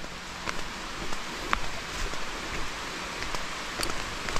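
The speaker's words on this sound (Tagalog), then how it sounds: "Yun o, nabot na nga tayo ng ulan." Steady rain falling outdoors on a rural dirt road, a continuous dense patter of drops with a few sharper hits, moderately loud and with no voices over it.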